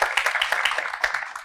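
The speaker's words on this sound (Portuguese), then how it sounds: "Peço uma salva de palmas para ela, convido para a mesa." Audience applause at an arts economy seminar panel, welcoming a guest to the table: a dense, steady wash of many hands clapping, fairly even throughout with small surges, no voices over it.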